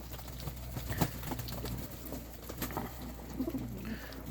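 Young pigeons in a dovecote, including a white hen bird beside a male, coo softly and repeatedly over a steady low hum, with faint shuffling and wing movement nearby.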